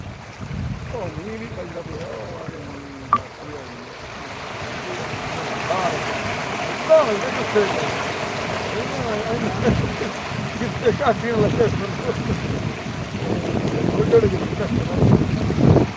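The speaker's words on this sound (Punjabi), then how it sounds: "ਸਪੀਡ ਪਾਣੀ ਦੀ ਬਹੁਤ ਤੇਜ਼" Fast-flowing flood water of the Sutlej river, swollen by rain, roars as a continuous broadband rush outdoors, with gusty wind buffeting the mic and voices talking over it.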